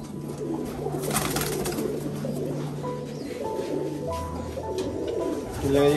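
Giribaj pigeons coo softly in low, repeated throaty calls, several overlapping, over a faint background murmur.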